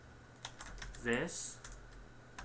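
Keys clatter on a computer keyboard as text is typed, a handful of light scattered clicks with a brief spoken word in the middle.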